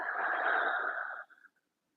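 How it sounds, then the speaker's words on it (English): A single soft, breathy exhale through the mouth after a nasal inhale during a calm yoga cool-down, close and gentle, tapering off over about a second and a half into silence. "Soft inhale breath through your nose and exhale through your mouth"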